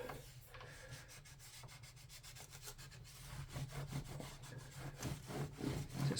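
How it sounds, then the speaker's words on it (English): A cloth rag rubs residue off a bass guitar in repeated soft scrubbing strokes, close and fairly quiet, growing a little louder and busier toward the end with no talking. "we're going to come back through with the other side of the rag and take our time with it now. And we just pull off the residue"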